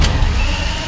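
A Lamborghini with a 6500cc naturally aspirated V12 engine starts up, a loud, close, sustained engine roar with a rising high-pitched whine.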